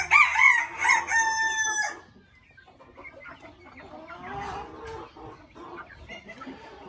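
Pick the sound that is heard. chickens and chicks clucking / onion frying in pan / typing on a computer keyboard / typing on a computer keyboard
chickens and chicks clucking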